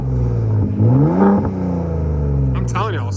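Close and loud, a Gen3 Ford F-150 Raptor with an AWE catback exhaust revs in sport mode, its deep exhaust note rising and falling through a couple of blips, with brief voice-like sounds near the end.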